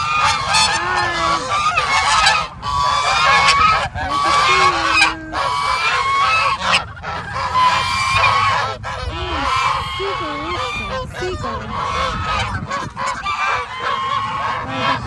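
A flock of white geese honks loudly and continuously at close range before a snowstorm, their overlapping nasal calls filling the scene while people talk faintly in the background.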